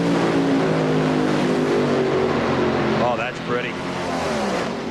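Oldsmobile drag racing car at the 1994 NHRA US Nationals, a loud sustained engine roar at full throttle filling the whole stretch, with a commentator talking over it.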